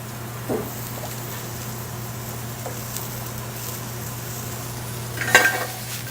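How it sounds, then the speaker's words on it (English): Wild mushrooms sizzle and brown in a pan with a low, steady frying hiss, broken by a couple of soft utensil taps and a brief sharper clatter near the end. "These mushrooms, these wild mushrooms here, once they get nice and browned, toasted"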